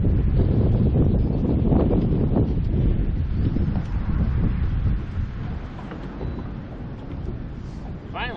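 Strong wind while fishing buffets the microphone in a continuous roaring rumble, loud and gusty throughout, easing slightly toward the end.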